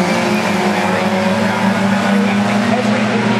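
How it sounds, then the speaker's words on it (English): Four race cars running nose to tail at Cadwell Park's Mountain section, a loud sustained engine howl with steady droning pitch as the pack approaches together, with commentary over it. "they're coming into the mountain now. It really is that close, four cars completely together"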